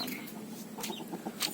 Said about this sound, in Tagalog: Tandang ito, tandang yung talisayin